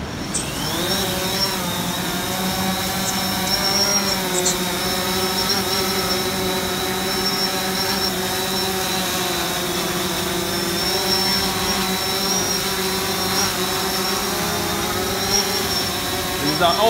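A DJI Phantom 4 drone hovers while lifting a water bottle weighted with about 15 ounces of lead, its rotors giving a steady, loud, close whine with a strong high tone that holds throughout.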